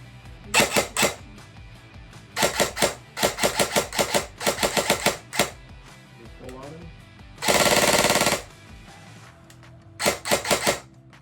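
An airsoft gun fires close by in rapid bursts of sharp clicking shots, with one longer sustained burst partway through, then another short volley.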